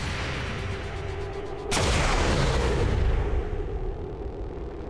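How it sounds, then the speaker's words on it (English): Gunfire erupts in the XCOM 2 tactical game: a sudden, loud, sharp burst of shots cuts through a steady background noise, then trails off into a long, fading rumble. "Guys are shooting at me."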